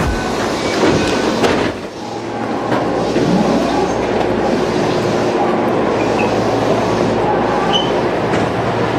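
A train rumbles through Saga-Arashiyama station in Japan, a loud continuous roar of rolling wheels and carriages with faint rhythmic clatter and hiss, steady throughout with no talk.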